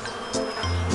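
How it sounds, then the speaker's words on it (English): Bees buzzing around a beehive, a steady insect drone with a brief louder swell, close and alone with no talk. "This is Bee's home."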